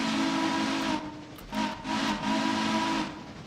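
A loud steam whistle from a locomotive in the railroad game Railroader, one long blast followed by several shorter hissing toots, over a faint airy background.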